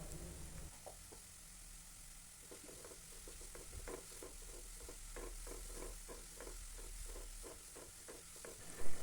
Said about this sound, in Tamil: எல்லாத்தையும் நல்லா வதக்கி விட்டுறலாம்.